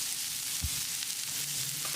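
Steady crackling sizzle of salted vegetables frying in a pan over medium heat, close and continuous, with a brief low knock partway through.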